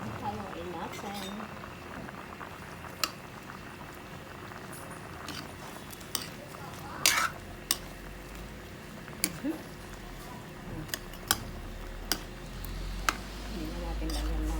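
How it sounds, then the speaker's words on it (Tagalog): Ginataang manok with pumpkin simmers in a pot while a utensil stirs it, with bubbling and a scattering of sharp clinks against the pot. Someone talks over the cooking. "Haluin natin."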